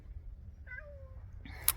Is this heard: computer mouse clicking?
no